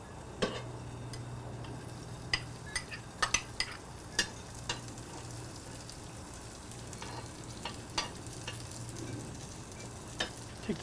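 Minced sun-dried tomatoes marinated in olive oil sizzle on a flat-top grill, a steady soft frying hiss with a low hum underneath and scattered light metallic ticks and clicks throughout.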